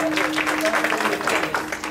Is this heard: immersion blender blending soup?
no